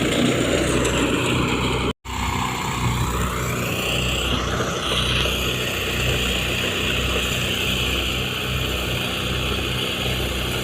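A Grabagan SJM power thresher runs while threshing rice, a steady droning engine hum with a brief dropout early on, then continuing evenly and close with no voices.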